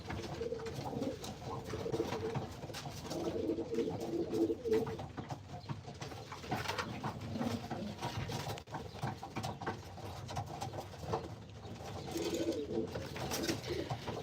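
Pigeons coo steadily inside a loft, soft overlapping murmurs repeating throughout against a busy low background with faint shuffling and pattering.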